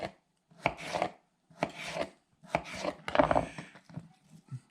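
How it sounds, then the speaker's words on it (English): Potatoes cut into French fries with a knife on a board, heard as a series of close, crisp chopping strokes in separate bursts with short pauses between them. "I am just going to cut them into whatever size French fries I want"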